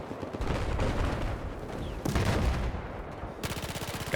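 Gunfire in an Xbox shooter video game: rapid bursts of automatic shots crackle in quick succession, a denser volley near the end, with continuous game noise behind and no talk.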